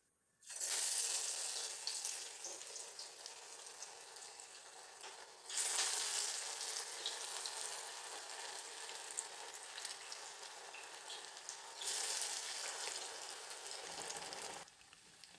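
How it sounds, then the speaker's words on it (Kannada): Chana dal vadas dropped into hot oil fry with a loud, steady broadband sizzle that surges in three bursts as each piece goes in, with no talking over it. "ಎಣ್ಣೆ ಕಾದಿದೆ. ಇವಾಗ ನಾನು ಒಂದೊಂದನ್ನೇ ಹಾಕ್ತಾಯಿದ್ದೀನಿ."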